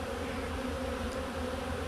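Honeybees drone around a hive box under attack from robbers, a continuous, dense, close buzzing hum that stays level throughout with no talk.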